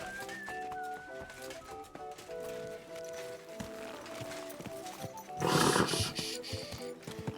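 A horse in Kingdom Come Deliverance 2 snorts and shuffles its hooves over a layered game soundscape, with a louder, breathy burst near the end standing out against steady background tones.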